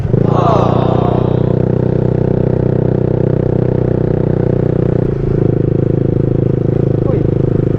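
A Yamaha VMAX motorcycle with an open exhaust pipe rides at night, giving a loud, continuous deep engine drone with a brief rev change partway through, heard close up from the bike itself.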